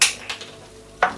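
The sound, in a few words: mixing ricotta and spinach in a bowl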